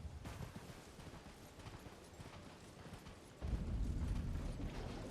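Horse hooves gallop in Elden Ring as the rider crosses a poisonous red swamp, a steady clip-clop rhythm throughout that grows louder and heavier partway through.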